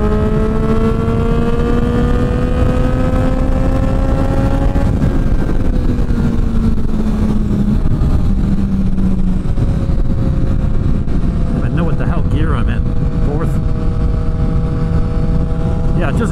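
A Ducati Streetfighter V2 or Triumph Street Triple RS motorcycle engine runs loud and close, its revs climbing steadily then dropping and holding at a sustained drone under continuous wind roar.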